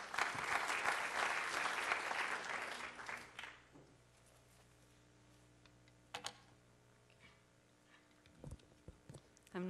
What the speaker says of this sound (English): So please a warm applause for Anna.